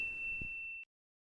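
A single clear, high ding sounds and rings briefly before cutting off into silence.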